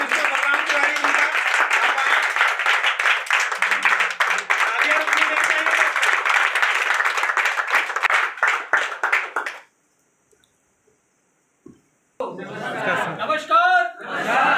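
An audience at a seminar claps steadily to welcome a speaker, a dense sustained round of applause lasting several seconds before cutting to silence, then a voice speaks.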